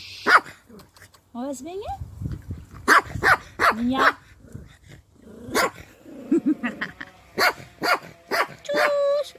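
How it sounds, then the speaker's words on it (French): A guard dog barks in repeated short bursts, with some yips and whimpers, close by while people talk over and between the barks. "le chien de garde"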